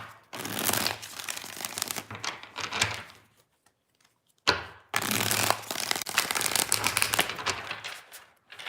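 Tarot cards being shuffled close up in three bursts of crisp riffling and flapping, with a short near-silent pause after the second.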